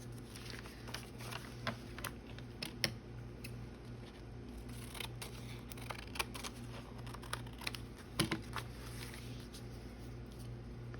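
Scissors cut through a vintage 1950s–1970s paper sewing pattern, making irregular crisp snips and rustles close by, quiet and without talk.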